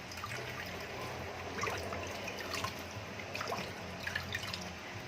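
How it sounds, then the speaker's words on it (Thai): Washed ginger sits draining in a basket, with water dripping and trickling softly in faint, irregular patters. "แล้วก็ใส่ในตะกร้านะคะให้เขาเสด็จน้ำหน่อยนะคะ"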